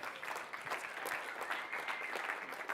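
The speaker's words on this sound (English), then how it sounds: "Can y'all just give a round of applause real quick?" An audience at a spoken word poetry event applauds steadily, dense clapping at a constant level from start to finish with no voices standing out.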